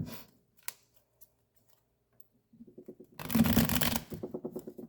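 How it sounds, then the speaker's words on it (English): Tarot cards being shuffled: a few faint taps, then a burst of dense riffling followed by rapid rhythmic flicks, close and fairly loud, with no talking. "Just give us a good shuffle."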